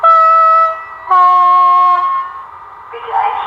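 A model train locomotive's sound functions play loud, sustained tonal whistle and horn blasts, two long tones followed by a shorter, rougher horn note, with no talk.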